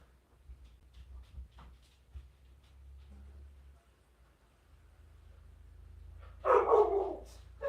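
A large dog barks near the end after a quiet stretch of faint indoor rustling, a short loud burst of several barks close by.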